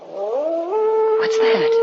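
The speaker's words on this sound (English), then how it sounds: "Oh, that was just a dog" A drawn-out, wavering animal howl rises and holds outside as a sound effect in an old-time radio drama, with a voice briefly speaking over it.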